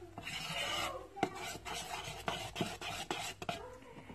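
Japanese pancake batter is stirred in a bowl, making a rhythmic series of soft rasping scrapes, close and fairly quiet, with no talking.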